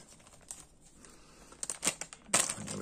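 Small plastic bags of London taxi model kit parts being emptied onto a surface: soft crinkling and rustling of thin plastic with light pattering of small parts, growing into louder bursts of crumpling toward the end.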